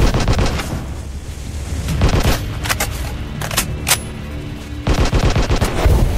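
Gunshots in the Anti Terrorist Squad Shooting video game, a series of sharp cracks and short bursts spread across the stretch, with a cluster of loud hits toward the end.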